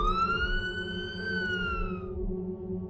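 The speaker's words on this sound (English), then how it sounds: "I hear sirens in the background." A wailing police siren sweeps up and then fades out over a low rumbling background, a single continuous tone that dies away after about two seconds.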